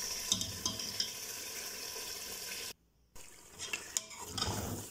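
Goat trotters (paya) sizzle in hot oil while a utensil scrapes and stirs the pan, with a brief silent gap partway through.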